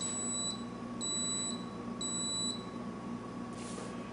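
A brewing system controller alarm sounds as a series of sharp high electronic beeps in short evenly spaced pairs over a steady background hum, with no talking.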